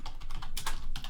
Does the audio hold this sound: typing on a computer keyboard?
yes